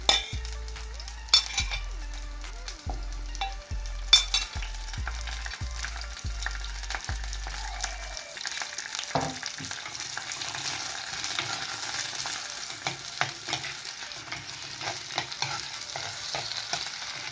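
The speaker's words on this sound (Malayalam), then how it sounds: "നമുക്കിനി അതിലേക്ക് ഇഞ്ചി, വെളുത്തുള്ളി, നമ്മൾ അരിഞ്ഞ് വെച്ചേക്കുന്ന ഉള്ളി, പച്ചമുളക്, കറിവേപ്പില എല്ലാം ഇട്ടൊന്ന് വഴറ്റാം" Ginger, garlic, chopped onion, green chillies and curry leaves stirred and sautéing in hot oil for a Kerala mango and ground-coconut fish curry, with a steady sizzle and a series of regular stirring knocks and clinks at the pan early on.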